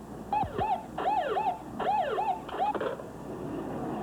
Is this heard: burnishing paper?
no